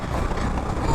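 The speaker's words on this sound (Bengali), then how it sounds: "ওই তো এই দেখো টয় ট্রেন যাচ্ছে" The Darjeeling toy train rumbles past on a hill line, a loud, close, continuous mechanical roar over one second.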